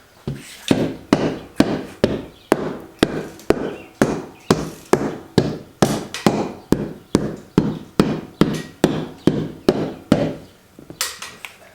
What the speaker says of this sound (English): I'm just going to take a rubber hammer, just make sure.